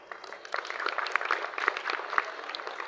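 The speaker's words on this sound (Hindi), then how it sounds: "थोड़ी तालियां जोर से बजाएं" A class claps in a scattered, uneven burst, with individual sharp claps standing out over a thin, moderately loud patter that begins softly and builds.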